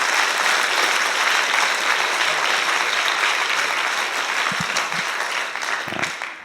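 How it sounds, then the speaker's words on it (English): A university audience at the 2012 Three Minute Thesis Grand Final at the University of Otago applauds the sponsors, with dense, sustained clapping that tapers slightly toward the end. "we can all give a round of applause to our sponsors"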